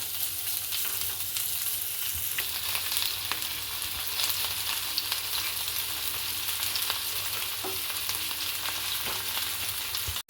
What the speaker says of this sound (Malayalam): എണ്ണ ചൂടായ ശേഷം നമ്മൾ ഈ കൂണ് ഇതിലേക്ക് ഇട്ട് വറുത്തെടുക്കുക